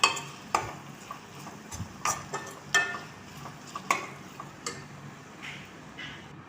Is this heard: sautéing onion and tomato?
yes